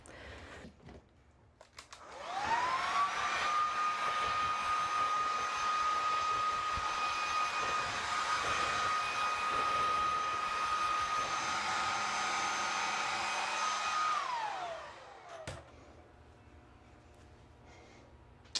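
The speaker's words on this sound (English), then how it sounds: "I think we're ready to blow dry and see where we're at." A hair dryer blows steadily on freshly cut bangs, switching on with a rising whine, holding a loud, even roar for about twelve seconds, then winding down as it shuts off; no one speaks over it.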